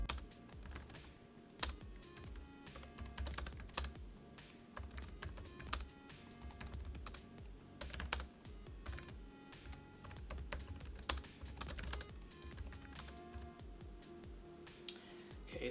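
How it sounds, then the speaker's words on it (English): Continuous fast typing on the keyboard of an Asus ROG GL752VW gaming laptop, a steady dense patter of close, quiet key clicks for about fifteen seconds with no voices. "give you guys an idea of how the keyboard sounds when it is used"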